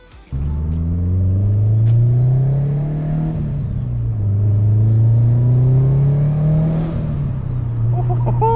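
A 2005 Subaru STI pulls away and accelerates, its close, loud engine note rising through the gears with clear shift dips and a continuous low rumble, no talk over it.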